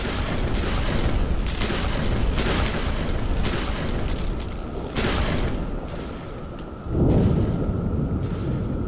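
Thunder in the dark game GUILT: The Deathless, a deep rumbling roll with repeated heavy booms and a louder crash near the end, continuous and fairly loud.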